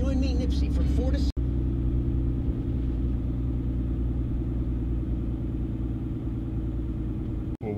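A Cummins diesel pickup truck runs with its exhaust brake engaged, giving a steady, deep, close rumbling drone that holds evenly with no speech over it.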